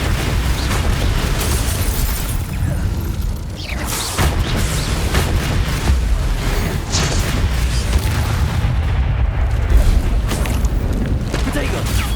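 Confringo fire-blast spells explode in the Hogwarts Legacy video game, repeated loud bursts and booms amid mechanical clatter, with a voice calling out over the combat.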